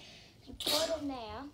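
A single sudden sneeze bursts out near the microphone, sharp and loud, amid a messy baking soda experiment, with a voice speaking around it.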